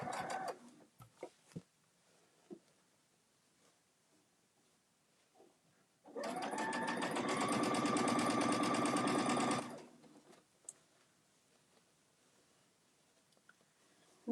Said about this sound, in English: I'm going to backstitch there too.